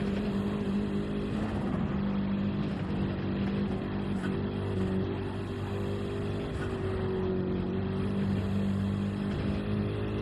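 A BMW race car at Le Mans in a sim racing game, its engine droning steadily at high revs with slight pitch shifts through fast curves, no talking over it.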